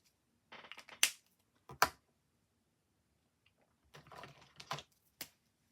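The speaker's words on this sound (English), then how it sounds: "It's easy to fussy cut this as well." Scissors fussy-cutting paper for a journal page, in a few short bursts of crisp snipping and rustling, close and quiet with pauses between them.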